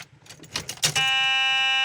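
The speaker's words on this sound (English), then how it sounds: "That annoying buzzer still works as well." Ignition door buzzer in a 1977 Chevy Camaro, a steady electric tone sounding close inside the car after some brief clicks and handling noises.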